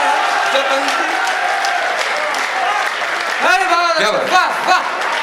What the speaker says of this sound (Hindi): पूरा सदन एक मरतबा ताली।